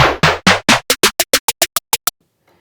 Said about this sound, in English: we have the snare sample that I inputted.